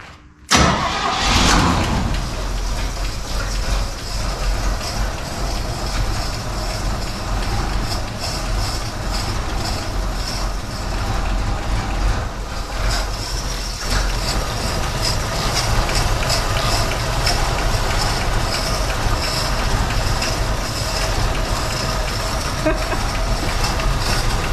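A 1965 Chevy C10 truck engine turns over and fires almost at once, then runs loud and close with a steady, rough rumble for the rest of the clip.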